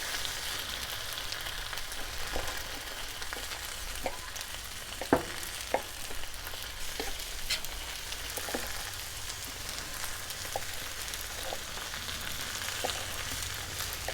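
Chicken hibachi cooking on a Blackstone griddle gives a steady, dense sizzle throughout, with occasional light clicks and taps of a spatula or utensil against the flat top, close and continuous with no voices.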